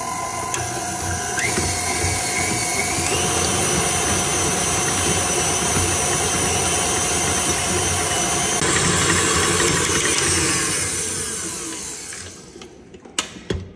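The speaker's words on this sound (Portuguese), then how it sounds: "E agora eu vou bater isso aqui tudo. Na sua batedeira, você vai escolher esse gancho aqui, ó." A stand mixer with a dough hook kneads potato bread dough, giving a steady loud mechanical whir and rhythmic rattling that runs continuously, then winds down and stops near the end.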